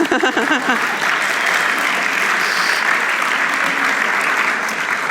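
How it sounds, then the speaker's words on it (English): An audience at a talk on care culture breaks into steady, full applause, a dense wash of clapping that stays even throughout the short stretch. "Yes, give him a clap."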